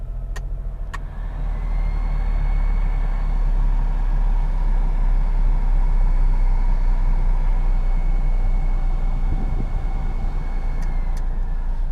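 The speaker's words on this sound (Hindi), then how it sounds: "इसका जो ब्लोअर है वो बहुत शोर मचाता है" A Suzuki Mehran VXR car idling with its noisy AC blower running, a steady, loud, close low engine drone under a constant whooshing fan hiss for the whole stretch, with a couple of brief clicks.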